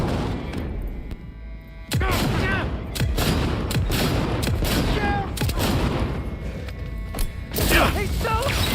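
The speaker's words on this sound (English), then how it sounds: "They're opening fire!" Gunfire in the Cyberpunk 2077 finale, loud dense bursts of shots and impacts from about two seconds onward over a rumbling battle bed, with voices shouting in the middle of the fight.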